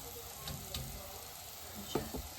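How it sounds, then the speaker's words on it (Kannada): Onion fries quietly in a pan with a soft, steady sizzle, broken by a few faint clicks and stirring taps, and no one speaks. "onion fry ಆತಡ್"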